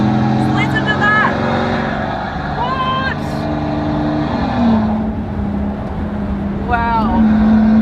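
A Maybach Exelero one-off concept car's engine roars at high revs down a private airport strip, rising and falling with gear shifts as it speeds past, loud and continuous with some voices underneath.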